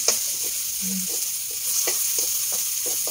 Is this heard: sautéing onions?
yes